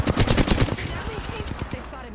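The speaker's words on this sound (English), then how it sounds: "They spotted me. I'm taking shots." Rapid automatic gunfire in the video game Apex Legends, loud close bursts in quick succession that thin out into scattered distant shots.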